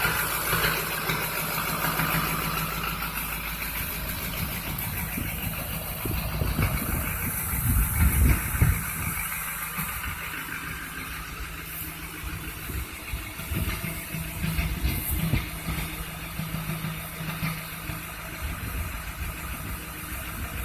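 A Duramax LMM diesel engine with the resonator removed idles after a cold start, a steady rumbling drone with low vibration lasting the whole time, no voices.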